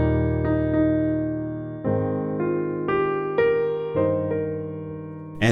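Sustained harmony chords move from the one chord to the four chord, each change struck cleanly and ringing out in a calm, steady progression with no talking.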